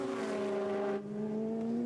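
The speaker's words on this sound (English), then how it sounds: "now we'll see the NASCAR power of the Trans Am down the straight" A Trans Am race car's V8 engine roars down the straight at Hampton Downs International circuit in a GT race, a strong sustained tone rising slightly in pitch, heard continuously from a moderate distance.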